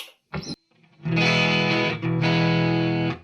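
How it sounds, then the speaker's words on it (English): A 2003 Gibson SG electric guitar played clean through its neck pickup: a short picked note, then two sustained strummed chords ringing warm and full, close and alone. "Let's go ahead and move it to the neck and hear what that sounds like clean"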